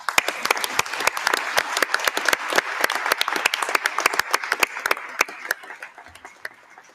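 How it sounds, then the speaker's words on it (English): Applause from a medium-sized crowd at the closing ceremony of a United Nations Environment Assembly session, sharp distinct claps that hold steady and then thin out toward the end. "Let's give them a round of applause, please."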